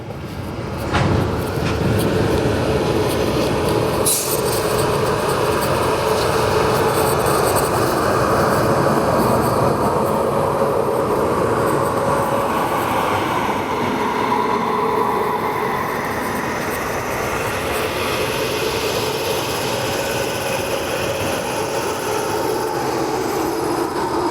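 Steady, loud rolling rumble and rail clatter of the Vidarbha Express, hauled by a Kavach-fitted WAP7 electric locomotive from Kalyan loco shed, heard continuously for over twenty seconds.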